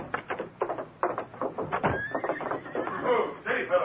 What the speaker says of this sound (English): A big white stallion coming down the slope toward the gates.